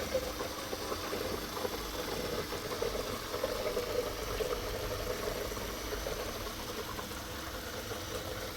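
Steady rushing and gurgling of water filling a General Electric dishwasher, with a constant low mechanical hum underneath, continuous and moderately loud throughout.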